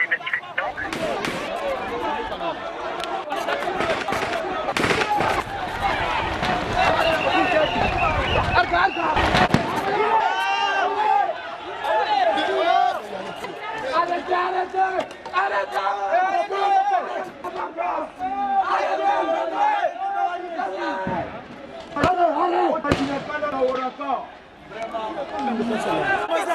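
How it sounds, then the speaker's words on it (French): Gunfire from soldiers and police shooting live rounds at protesters in the streets of Conakry, sharp cracks and bursts amid a shouting, chattering crowd, with people talking over much of it. "Les militaires et les policiers tirent à balles réelles sur les manifestants."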